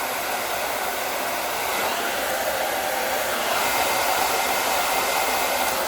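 Hair dryer blowing hot air steadily over a synthetic wig, a loud continuous broadband rush with no breaks, alone without talk for the whole stretch.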